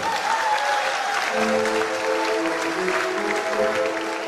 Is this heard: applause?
yes